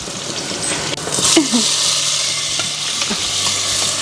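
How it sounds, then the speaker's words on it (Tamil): Onion sautéing in a pan for a home-cooked lunch, with a constant loud sizzle and a few scraping stirs of a spoon, with no talking. "நல்லா வெங்காயம் வந்து வதங்கட்டும்."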